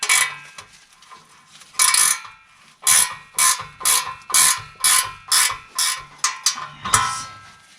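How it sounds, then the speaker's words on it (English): Ratchet spanner tightening exhaust bolts on a Land Rover Lightweight, a run of about a dozen loud, evenly spaced clicking bursts at close range, with no talk over it. "Some of them are awkward to get this ratchet span on because it's thick."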